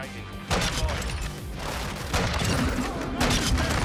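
Gunfire from the video game Modern Warfare 2 during sniping, a dense run of loud shots and impacts with bursts near the half-second, two-second and three-second marks over busy game noise, with some voice-like sound mixed in.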